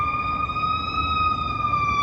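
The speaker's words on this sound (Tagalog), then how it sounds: "Merong mga fire truck, ambulance, ganyan." A steady fire truck or ambulance siren tone holds loud and continuous over a low downtown street rumble in Canada.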